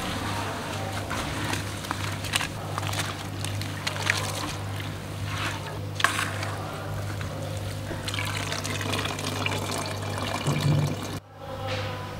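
Cumin seeds are washed in water, with sloshing, trickling and swirling close by, a steady low hum underneath, and a sudden stop near the end.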